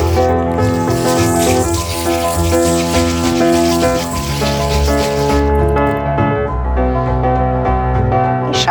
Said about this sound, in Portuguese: Esfregar os grãos.